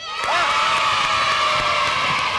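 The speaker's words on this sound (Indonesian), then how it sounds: "tepuk tangan." A crowd of children in a television quiz studio cheer and clap together, bright shouts and whoops riding over loud, continuous applause for the whole moment.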